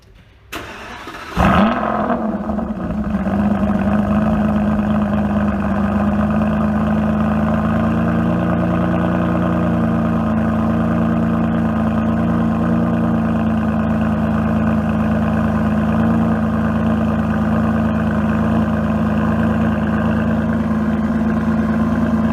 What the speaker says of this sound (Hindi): तो ये था 6000 cc पेट्रोल इंजन।